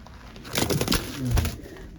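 Pigeons coo in soft, low, throaty rolls, two short phrases close by, over a faint background hiss.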